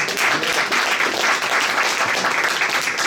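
Sustained, thick applause from a crowd at a tribute event for Dr. Frances Cress Welsing, many hands clapping evenly and loudly with no pause.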